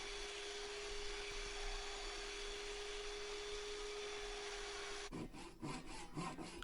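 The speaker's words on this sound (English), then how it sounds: "Then I chopped off the excess wedge." A saw cuts off the excess wedge on a new oak ball-peen hammer handle. A steady rough rasp gives way to a few quick, close, rhythmic back-and-forth strokes near the end.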